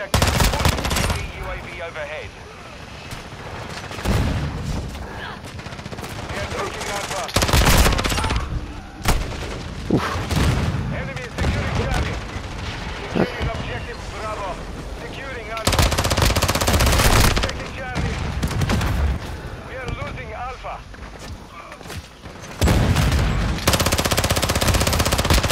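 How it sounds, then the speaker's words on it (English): Automatic weapon fire in Call of Duty: Modern Warfare II multiplayer, with loud, dense bursts of rapid shots repeating throughout, separated by heavier booming volleys and brief lulls. "He emptied a whole fucking mag on him"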